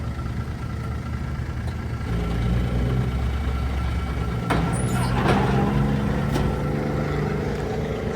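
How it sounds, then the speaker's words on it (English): A truck engine rumbling nearby at a Japanese race track, rising in loudness partway through, with a sharp hiss of air brakes releasing near the end. "I still think these trucks are the coolest thing ever."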